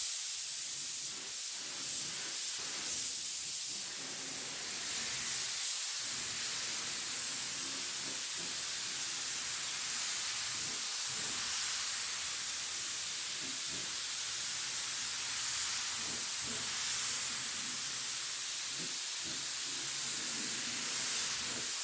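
A paint spray gun spraying purple paint over a black base gives a steady, continuous hiss throughout, with slight pulsing and faint clicks, fairly close and even in loudness.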